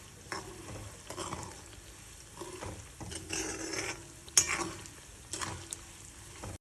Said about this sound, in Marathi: तेलात मस्त पैकी परतून घ्यायची चांगलंसं खमंग वासेस तर भाजून घ्यायचं